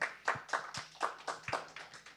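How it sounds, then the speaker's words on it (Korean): Audience applause at an academic presentation on post-COVID housing preferences, a steady run of about nine distinct clap bursts over two seconds, moderately quiet with no talk. "다시 한번 박수 부탁드리겠습니다"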